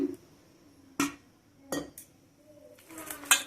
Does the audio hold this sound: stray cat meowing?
no